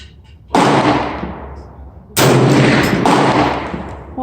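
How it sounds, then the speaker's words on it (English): Two loud, booming shots from a Bear Creek 450 Bushmaster rifle at an outdoor range, spaced well apart, each followed by a long decaying rumble and echo. "This is the last 3 shots that I took consecutively."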